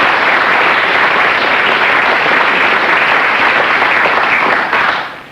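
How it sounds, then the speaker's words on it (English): A studio quiz-show audience gives a contestant a loud, dense burst of sustained applause that holds evenly for about five seconds, then tapers off at the end. "you were beaten by P.J. Hill, who gets a book token and this round of applause"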